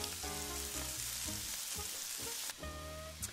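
Meatballs brown in a pan, a hot frying sizzle with scraping and clinks of a utensil turning them, plus a tonal hum in the background and a sharp change in the sound partway through.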